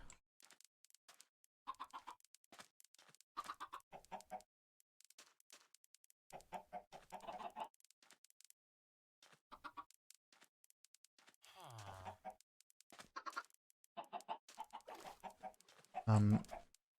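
Minecraft chickens cluck in short, clipped bursts with quiet gaps between them, fairly close and clear. One deeper, louder sound stands out near the end, and no one talks.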